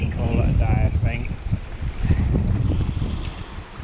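Bitterly cold wind blowing outdoors on a coast while fishing for coalfish, a loud, steady rush buffeting the microphone, with a voice speaking faintly underneath.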